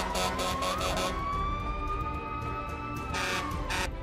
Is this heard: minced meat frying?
no